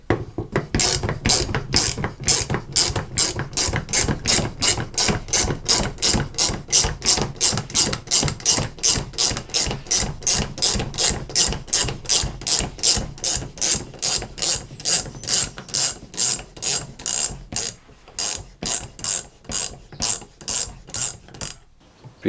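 A hand ratchet winds down a three-leg puller on a Volvo Penta marine water pump, producing a long steady run of crisp, closely spaced clicks, loud and near, with a brief pause near the end.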